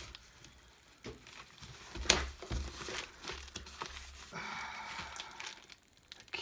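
Packaging material from an e-bike mid-drive electric assist kit box rustles and crinkles in soft, irregular bursts, with one sharper crackle. It sounds close but quiet, and no one speaks.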